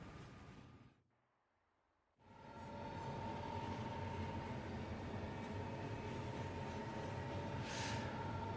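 A train ride in the video game Final Fantasy XV, with a steady rumbling roll and a sustained tonal hum. It starts after a brief near-silent gap, then holds constant and moderately loud with no talking.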